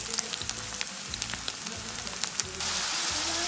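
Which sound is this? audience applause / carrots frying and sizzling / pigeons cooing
carrots frying and sizzling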